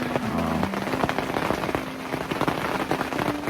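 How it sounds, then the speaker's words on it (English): Heavy rain pours steadily all night onto surfaces outdoors on a rainy bird-hunting morning, a dense continuous hiss and patter with scattered louder drops and no voices. "Pouring down rain. It's been raining all night."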